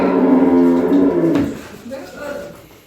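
A dairy calf and cattle on a farm; a loud, close, drawn-out moo fills the first second and a half, then fades into quieter barn ambience with a softer low call.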